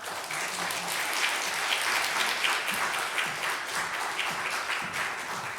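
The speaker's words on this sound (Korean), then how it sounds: "나오실 때 박수로 우리" A church congregation at a revival meeting breaks into sustained, dense applause to welcome the pastor, a steady wash of many hands clapping throughout.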